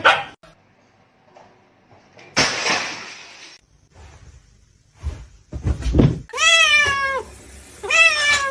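A cat lets out several clear, rising-and-falling meows near the end, following scattered thumps and rustling bursts earlier in an otherwise quiet room.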